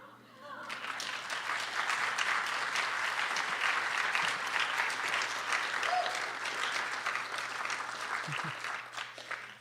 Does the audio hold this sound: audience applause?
yes